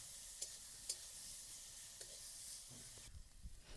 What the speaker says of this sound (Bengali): একটু ভাজা ভাজা করে নেব তেলের মধ্যে আমটাকে।